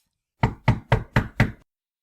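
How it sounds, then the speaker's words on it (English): Five heavy, evenly spaced pounding knocks on a front door, loud and close, each a dull thump on the wood with no other sound around them. "He pounded on the door with all his strength."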